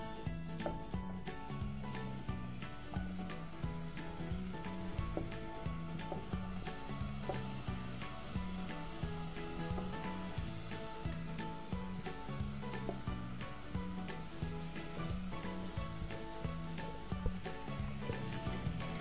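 Apples added to hot caramel in a pan sizzle with a steady, dense hiss, close and continuous, with faint scraping and stirring textures running underneath throughout.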